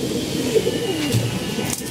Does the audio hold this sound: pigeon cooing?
yes